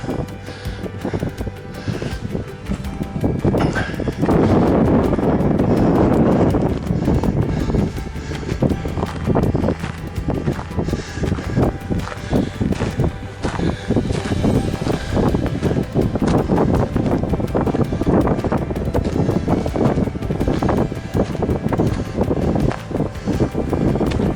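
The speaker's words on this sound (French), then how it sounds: "Par contre, il y a un vent de fou." Strong gusting wind on a Corsican mountain pass of the GR20 trail, around 1840 metres, buffets the microphone for the whole stretch, a loud, rough roar rising and falling with no voices.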